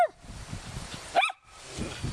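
Dogs bark in a quick series of close, sharp yelps near a cherry tree outdoors, with a brief pause before more barking resumes faintly.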